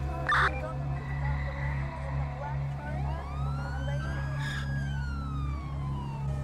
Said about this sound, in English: you just hear the fucking alarm whirring in the background here